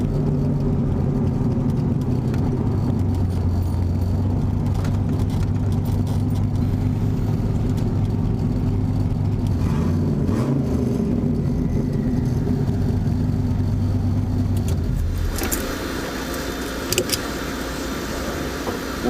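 A turbocharged Fox Body Mustang races, a loud sustained engine drone from inside the car that holds steady, then drops away near the end with a few brief knocks and no speech.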